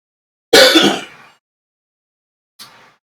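One loud, harsh cough close by, followed after a pause by a softer second cough.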